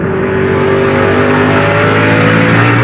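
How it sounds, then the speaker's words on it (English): Stock race cars accelerating at Richmond International Raceway during the 2001 Kroger 200, a loud continuous engine roar with rising harmonic drone, several cars blending together close by. "You can see Kenny's able to get in the throttle a little bit quicker than Joe being on the outside like that."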